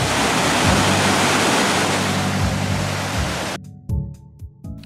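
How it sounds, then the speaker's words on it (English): Waterfall on the north side of a river near Blue River, British Columbia, a loud steady rush of falling water that cuts off abruptly after a few seconds, replaced by a humming engine and knocks. "A waterfall on the north side."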